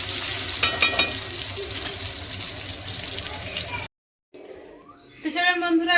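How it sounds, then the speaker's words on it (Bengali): Spice paste and potatoes sizzling and being stirred in a pan for a Bengali potol chingri dish, a close frying hiss with scraping strokes, a brief cut to silence, then louder sizzling. "এবারে এটা আলুর মধ্যে দিয়ে একটু কষিয়ে নিয়ে"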